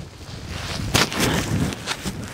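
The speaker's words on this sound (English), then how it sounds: "We have caught in a huge gust of wind" A huge gust of blizzard wind buffets outdoors with sleet in the air, a rough roaring rush with sharp bursts of microphone buffeting, no voices.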